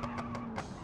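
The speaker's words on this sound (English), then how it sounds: "it's being screechy through the corners as you get that wheel spin and lose the capabilities of steering" Tires squeal through a corner in BeamNG.drive as a hatchback spins its wheels, a short close screech pulsing a few times over a steady engine drone.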